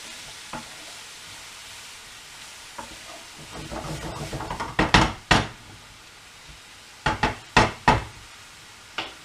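Onions softening in oil in a pan for a minced beef and onion pie, a low steady sizzle. A run of sharp knocks and clatters from stirring or handling the pan breaks through in the second half.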